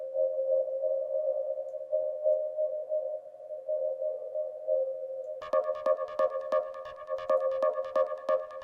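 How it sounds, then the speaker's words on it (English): A steady synth drone hums alone, then a rhythmic pulsing pattern with bright, echoing tones joins in, washed in spacious reverb from Ableton's Hybrid Reverb using the Space Tank preset. "I'm going to take a hybrid reverb, and we could just choose like one of the special reverbs"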